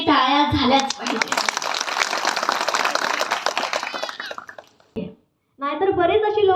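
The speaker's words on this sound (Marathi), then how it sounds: "त्यांच्यासाठी टाळ्या झाल्याच पाहिजे" Crowd clapping for the organiser of a village awareness programme, a dense burst of many hands lasting several seconds and tapering off before a voice resumes.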